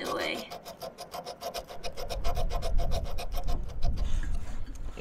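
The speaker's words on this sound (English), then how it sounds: "I'm just gonna stick the snail file in between these two and sand away." A nail file is sanded back and forth in a narrow gap between two parts of a Volkswagen Bug, making rapid rhythmic rasping strokes at close range, with a voice speaking early on.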